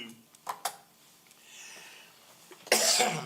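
A few short coughs early on, fairly close, at a planning commission meeting, followed by a quiet pause and then a burst of noisy rustling.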